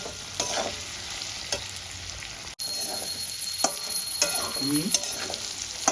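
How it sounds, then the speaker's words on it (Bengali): Katla fish head curry with potatoes being sautéed in a pan, a steady close sizzle with a spatula scraping and stirring. Clinks and a brief ringing tone come in toward the end. "ভালো করে কষাতে থাকবে"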